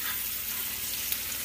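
Meat browning in a hot pan for a stuffed Boston butt pork roast, giving a steady, even sizzle that stays at one level throughout, with no talk.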